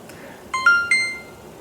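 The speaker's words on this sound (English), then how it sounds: "Okay, so here it's beeping." An Insta360 action camera gives a short run of electronic beeps after being powered on: three quick, bright tones close together, clear over a quiet room.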